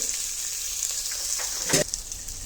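Sliced onions and green chillies frying in a pan for an egg gravy: a steady, close hiss of sizzling oil with one sharper stirring burst near the middle and no speech.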